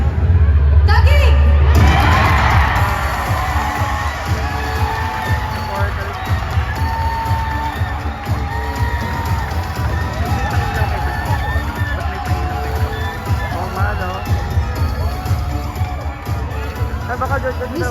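A large crowd cheers and shouts steadily at the Miss Universe Philippines 2022 coronation night, with a loud swell at the start easing into sustained whoops and a babble of voices, while people talk nearby.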